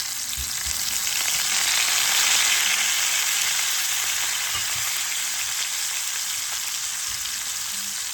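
Onion fries in a pan, just starting to catch and brown, giving a loud, dense, unbroken sizzle heard up close with faint stirring and no voices.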